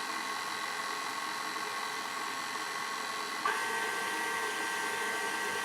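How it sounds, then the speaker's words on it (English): A stand mixer runs on low speed while mixing bread dough, giving a steady, even motor hum throughout with a slight bump in level partway through, and no voices. "I'm going to go ahead and just stop the mixer. And start it on low."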